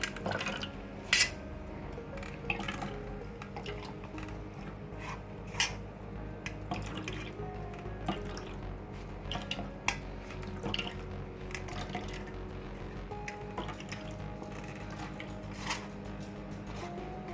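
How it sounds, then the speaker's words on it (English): Onion pulp pressed through a sieve with a metal utensil: faint, steady dripping and trickling liquid with scattered light clinks and scrapes, close by and without talk. "That's why I'm using a sieve. Press it out very well."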